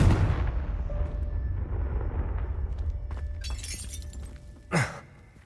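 A Confringo blasting spell from Hogwarts Legacy explodes with a loud crack and a rumbling boom, followed by crumbling, shattering debris and a second sharp burst near the end.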